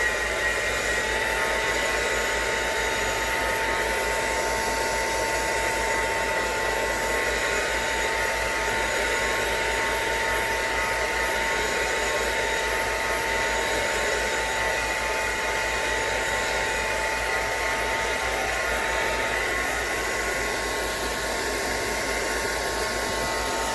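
A hair dryer blows steadily to dry ink on a mixed media junk journal page, a loud, continuous whir held close for the whole stretch with no talking.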